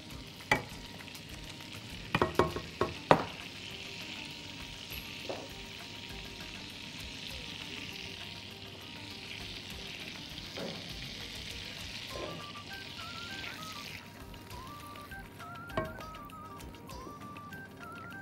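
Potatoes frying and being stirred in a pan at home, a soft steady sizzle with scattered clinks and scrapes of a utensil, louder bumps near the start, no talk over it.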